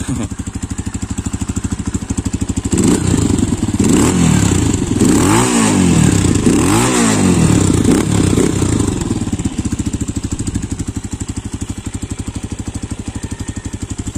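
A Rusi Enduro KRY 150cc motorcycle engine idles with a steady, quiet putter, then revs up and down a few times in the middle before settling back to idle, close by.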